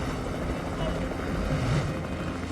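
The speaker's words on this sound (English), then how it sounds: "Bring the chopper in." A helicopter brought in during a rescue scene in a 1999 crime thriller, its steady broadband rotor drone sustained and fairly loud throughout, blended with ambient noise and faint voices.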